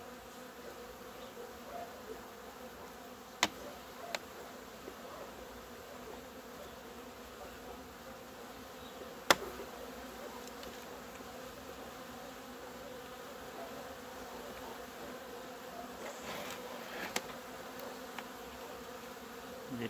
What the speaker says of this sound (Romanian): Deci avem albină chiar multă și pe ultima ramă